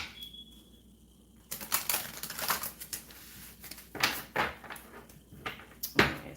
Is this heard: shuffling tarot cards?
yes